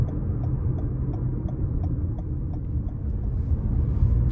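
A 2019 Toyota RAV4 Hybrid LE AWD cruises along, heard from inside the cabin as a steady low road rumble and tire hum with a faint, even engine drone and no talking.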